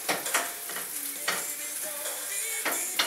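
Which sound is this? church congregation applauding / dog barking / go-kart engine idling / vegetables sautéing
vegetables sautéing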